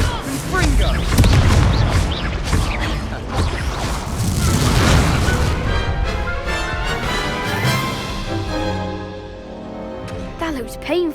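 A Confringo fire-blast spell from Hogwarts Legacy bursts with booming, popping explosions in the first half, then fades into ringing game effects and a voice near the end.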